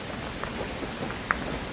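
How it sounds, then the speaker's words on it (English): Rain patters steadily outdoors in Sitka, Alaska, a soft even hiss with scattered drips and a few sharper drops landing nearby, no voices. "It's raining again"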